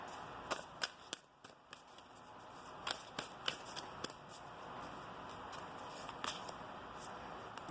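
Oracle cards being shuffled by hand, a quiet run of crisp riffling and slapping snaps in irregular bursts, close and clear with no talk.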